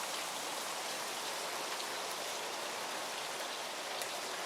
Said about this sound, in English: I love these rainy, windy evenings.